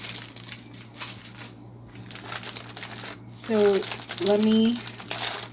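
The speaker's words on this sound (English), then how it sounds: "crinkly plastic, I'm going to get into this" Crinkly plastic packaging being opened, with brief crackling and rustling bursts, mostly in the second half, close to the microphone under a man's speech.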